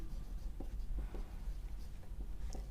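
A pen writing on paper, soft close scratching strokes in short irregular bursts, quiet and without talk.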